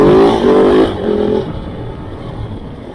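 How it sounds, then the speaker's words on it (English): A Kove 450 Rally motorcycle engine revs up in rising pulses, loud and close, then falls back to a quieter idle-like rumble. "This little engine loves to rev."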